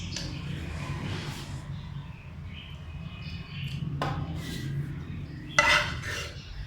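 Fried vegetables spooned onto a dish, with soft scraping of a utensil against a pot, scattered clinks and a sharper metallic knock near the end, fairly close and quiet.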